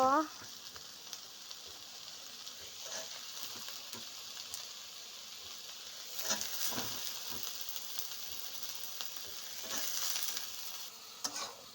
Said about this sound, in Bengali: সয়াবিনটা একটু ভাজা করব, ভাজা করে তারপরে আলু দেব।